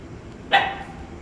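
A single short dog bark, close by and fairly sharp, stands out over a quiet background.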